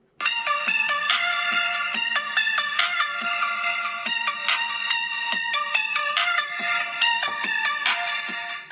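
A Xiaomi Redmi Note 7's single loudspeaker plays bright, busy music at steady volume, full of quick repeated tones and percussive hits, with little low end.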